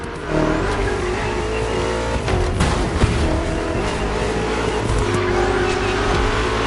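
Several BMW M CS cars from the racing video game The Crew, with a steady, loud engine drone, revving and tire squeal running throughout and no talk.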